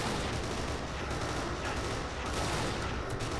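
Dense gunfire in the shooter game Kane & Lynch 2, a continuous crackling barrage of overlapping shots that stays fairly quiet and constant for a few seconds.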